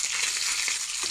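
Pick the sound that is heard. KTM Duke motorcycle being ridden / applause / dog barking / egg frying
egg frying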